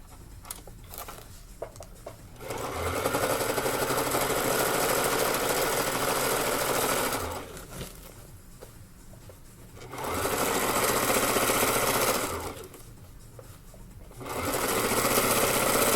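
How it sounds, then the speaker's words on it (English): A sewing machine runs in three bursts of straight stitching along a skirt hem, each burst a steady close whir separated by short pauses with light handling clicks. "what I'm doing that straight stitch in between the zigzag stitch that I already did"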